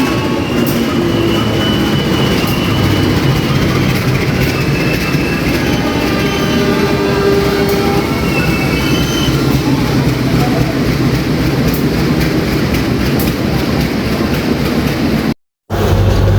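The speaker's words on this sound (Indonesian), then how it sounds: "kita langsung aja ke peron buat nunggu keretanya datang." A train rumbles loudly and continuously nearby at a station platform, wheels grinding and faintly squealing along the rails as it rolls in.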